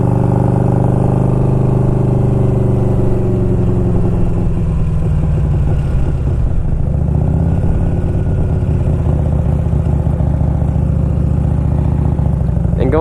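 A 1992 Harley Davidson Electra Glide Sport engine rumbles loudly and continuously while riding, its pitch sliding down and climbing again with changes in speed under steady wind noise.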